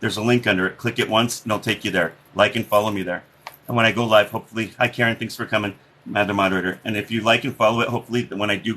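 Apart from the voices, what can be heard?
None of the usual background noises is heard.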